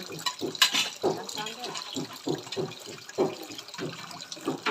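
A spoon scrubbed with a sponge under running tap water, splashing and rubbing in short repeated bursts, with soft voices of people talking nearby.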